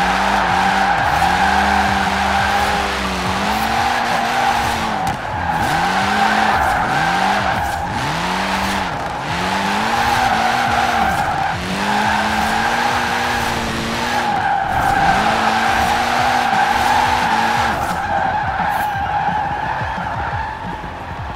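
A tuned 668-hp 2014 VW Golf R AWD drift build in the racing game Forza Horizon 4 slides through a run of drifts. Loud, repeated tire squeals and skids ride over a revving engine that swells and dips in rhythmic bursts.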